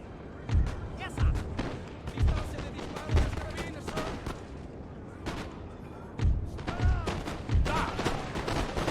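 Cannon and musket volleys fire in a Napoleonic-era battle in Napoleon: Total War: heavy booming shots at roughly one-second intervals, some in quick pairs, over steady battlefield rumble. Someone talks quietly in the background.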